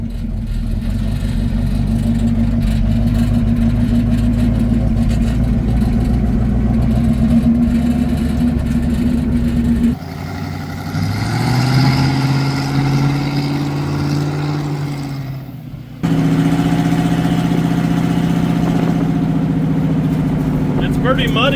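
A Ford Model A engine runs steadily with a low, throbbing idle and some revving, then shifts in tone as the car moves off, while people talk over it.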